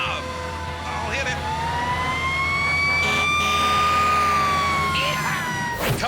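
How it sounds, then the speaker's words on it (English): An emergency vehicle siren wails loudly and steadily from close by, rising and falling in long sweeps, with engine and road noise underneath. "do you want to hit the siren?"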